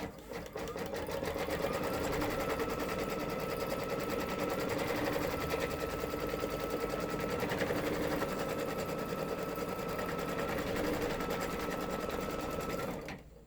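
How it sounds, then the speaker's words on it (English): An embroidery sewing machine stitches a placement circle onto cutaway stabilizer for a zippered bag, a steady, close, continuous whirring and rapid needle clatter that runs unbroken for about twelve seconds before stopping. "It's going to stitch a nice little circle right on the cutaway stabilizer"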